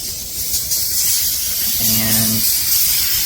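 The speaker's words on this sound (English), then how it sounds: "the moment you press this, as long as it's hot, it starts spraying" A steady loud hiss of steam spraying from the nozzle of a 2500W handheld steam cleaner, continuous throughout, with a brief low humming tone midway.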